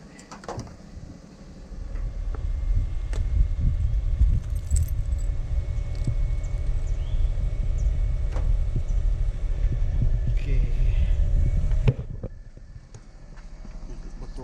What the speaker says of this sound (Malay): Buka kunci kereta.